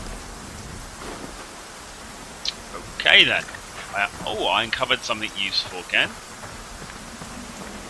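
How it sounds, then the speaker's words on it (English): Rain falling in the survival game Xsyon makes a steady, soft hiss throughout, with someone talking over it partway through. "it's raining."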